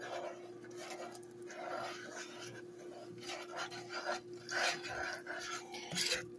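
Butter and sugar being stirred in a pot on a burner set to medium high, a close, continuous soft scraping and rubbing with a low steady hum underneath.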